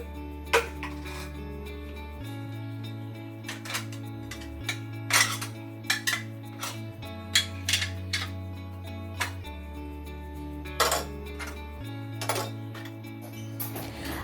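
Dishes and pots being cleared from a kitchen dish rack: a series of sharp clinks and clatters of cutlery and utensils, close and fairly loud, spaced irregularly over a steady low hum.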